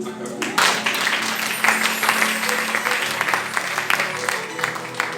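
A church congregation breaks into applause during a sermon, a loud, sustained wash of clapping with voices and sustained musical tones underneath.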